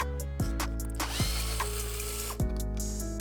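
Phillips screws being backed out of the side panel of an Inmotion V10, with three sharp ratcheting clicks spaced about a second apart over a steady tonal hum.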